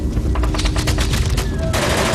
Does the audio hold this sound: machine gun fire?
yes